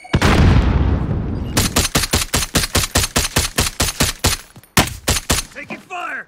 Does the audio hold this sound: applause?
no